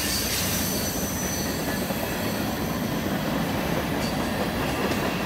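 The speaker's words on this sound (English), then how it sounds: "Boy, that was a long train." A long BNSF mixed freight train of grain cars, scrap metal cars and containers rolls past at Carkeek Park in Seattle with a loud, steady roar of wheels on rail and some high squealing, close by throughout.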